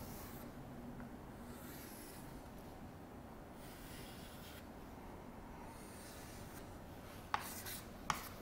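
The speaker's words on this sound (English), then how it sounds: "Let me just sketch for us the basic graph." A pen sketches a trigonometric graph on paper, a faint continuous scratching and rubbing close by, ending with a couple of small taps.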